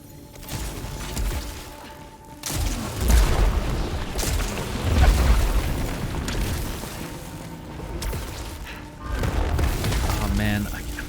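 Mega rocket explosion in the Returnal video game, heavy booming blasts and rumbling debris that surge loud in waves across several seconds, with a voice talking intermittently over the chaos.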